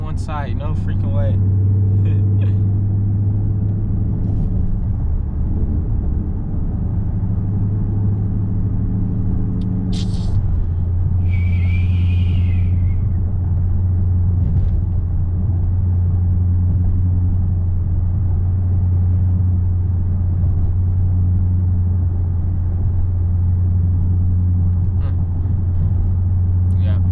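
A car driving through city streets at night, a steady low engine rumble and road drone from inside the cabin, loud and continuous, with a few faint higher noises over it.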